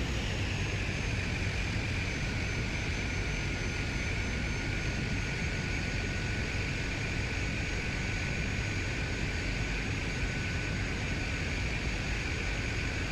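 Steady, unbroken engine drone of an airliner taxiing in Microsoft Flight Simulator 2020, a constant low rumble with a sustained high turbine whine over it, holding at even volume throughout with no talking.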